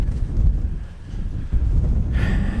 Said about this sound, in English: It's pretty windy, pretty cold.